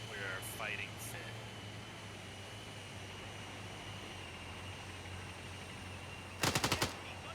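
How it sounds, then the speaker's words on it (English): ZU-23-2 anti-aircraft gun fire in Arma 3, a single short, rapid burst arriving late, heard over a steady vehicle engine hum with a few faint earlier noises. "Yep, ZU-23 fire coming in on us."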